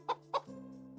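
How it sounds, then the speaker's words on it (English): A rooster in the farming game Medieval Dynasty gives two short, loud clucks in quick succession, followed by a steady low background hum. "That's a rooster, all right."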